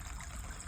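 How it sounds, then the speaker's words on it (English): A garden pond fountain, driven by a water pump, trickles and splashes with a soft continuous burble, close and fairly quiet throughout. "So we've got a fountain in here,"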